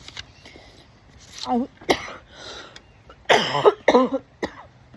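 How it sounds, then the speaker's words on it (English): A person reading aloud breaks into several close, raspy coughs and throat-clearing bursts, scattered between short stretches of quiet breathing. "now I want to cough"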